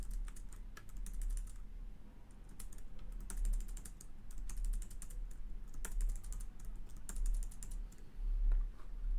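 Steady computer keyboard typing with rapid keystrokes coming in bursts and short pauses, close and fairly quiet over a low hum, with no voices.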